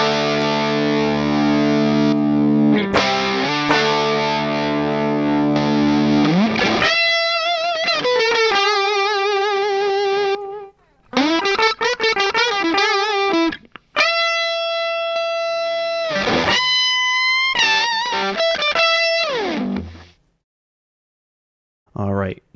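An electric guitar plays through two stacked distortion plugins in Reaper, with the second one acting as a boost for lead tones. Heavy, fuzzy chords give way to sustained, bending lead notes with brief gaps and no talk.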